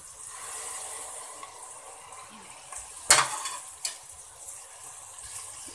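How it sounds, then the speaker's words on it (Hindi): Tomatoes and masala cooking in a pan with garlic paste, a soft steady sizzle with a few sharp scraping clinks of a spoon midway. "अब इसको हम भून लेंगे, टमाटर गला लेंगे टमाटर को गलने तक"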